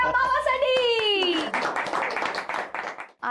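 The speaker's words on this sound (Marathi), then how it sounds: "जोरदार टाळ्या बाबासाठी." An audience claps briefly for a winning father at a televised family game show, the applause rising after a presenter speaks over it.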